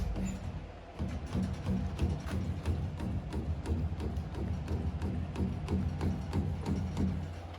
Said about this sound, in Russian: для меня после автомобильных это, конечно, стучит амортизатор